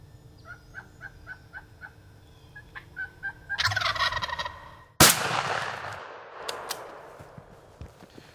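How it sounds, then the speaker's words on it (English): A single loud gunshot cracks out at a wild turkey during a Pennsylvania youth-day turkey hunt, following a run of repeated gobbles in an open field and trailing into broadband rustle and commotion. "Luke shoots and Hunter goes sprinting out across this field after this bird"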